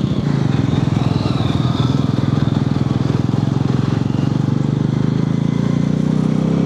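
A motorcycle engine labours loudly and steadily as it strains uphill on a rocky mountain road in Nepal, a close, constant throbbing drone throughout.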